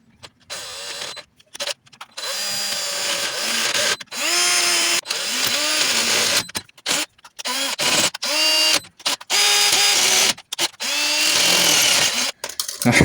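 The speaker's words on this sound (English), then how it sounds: "This new drill bit comes with the repair kit that I have over here." A power drill fitted with a new, sharp bit from a repair kit drills out a thread during work on an Alfa Romeo 156 1.9 JTD common rail engine: about a dozen loud whirring bursts, each stopping and restarting with shifting pitch, no talking.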